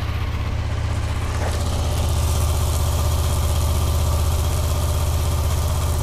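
Motorcycle engine running in gear on a center stand with the rear wheel spinning freely, a steady, close, low idling drone with even vibration throughout and no talk.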